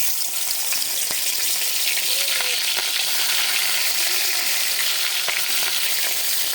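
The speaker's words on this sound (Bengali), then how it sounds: "কড়াইয়ে তেল দিয়ে দিয়েছি আমি মাছ ভাজার জন্য" Fish fries in hot oil in a kadai with a loud, continuous close-up sizzle and faint crackles throughout, with no voices.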